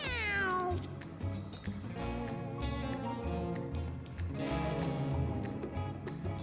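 Cats meowing in the roguelike video game Mewgenics, repeated drawn-out mews and yowls layered over continuous game music.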